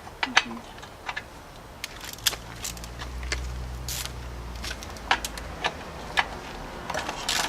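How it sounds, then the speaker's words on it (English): Tools work on a Honda Ruckus scooter as a bolt is removed: faint ratcheting clicks and small metallic taps scattered over a low background hum, close but quiet, with a voice briefly audible. "Now let's remove the bolt."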